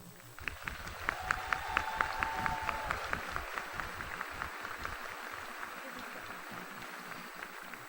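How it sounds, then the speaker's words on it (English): Steady applause from a commencement audience honoring the College of Education Class of 2015 Board of Trustees Award recipients, a dense wash of many hands clapping that holds for the full stretch, loud at first and easing slightly toward the end. "Please join me in applauding the College of Education Class of 2015 Board of Trustees Award recipients."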